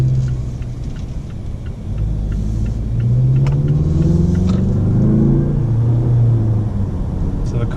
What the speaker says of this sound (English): So the car picks up pretty quick off the corner.